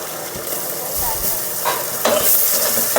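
Ginger garlic paste fries with lightly browned onions for a spicy boti curry, making a loud, close sizzle broken by scraping stirs, and it grows brighter and hissier toward the end.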